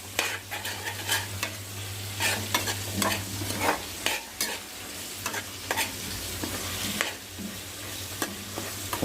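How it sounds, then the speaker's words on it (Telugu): Brinjal pieces and dried fish fry in a pan with a steady sizzle, broken by repeated scraping and stirring strokes from a utensil, close and fairly quiet with no talking. "ఇవన్నీ ఎండు చేపలు వేపుకుంటున్నాం"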